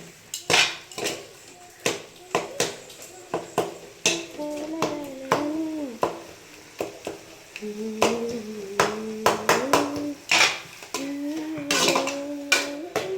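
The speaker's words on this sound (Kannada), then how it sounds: "ಅದಕ್ಕೆ ಮೊದಲು ಆಯಿಲಲ್ಲೇ ಸ್ವಲ್ಪ ಉಪ್ಪು ಹಾಕಿ ಇದೇ ರೀತಿ ಸ್ಮ್ಯಾಶ್ ಮಾಡಿಕೊಳ್ಬೇಕು" Tomatoes with salt being mashed in oil in a pan, heard as repeated sharp metallic clacks and scrapes of a utensil against the pan in an uneven rhythm, close and fairly loud, with a voice and tonal sounds in between.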